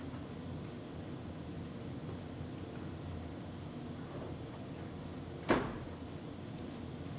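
The rear of a door from a side-damaged Lexus IS 250 latches onto a door stand in a shop. One sharp metallic clack stands out against constant loud shop noise.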